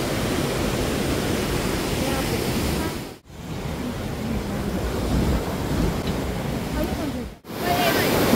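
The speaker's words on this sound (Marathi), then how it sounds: "ब्रिज वरनं पण असा मस्त पाण्याचा धबधबा दिसतोय" A waterfall heard from a hanging bridge in Kerala, a loud, steady rushing roar that fills the whole clip and cuts out twice very briefly.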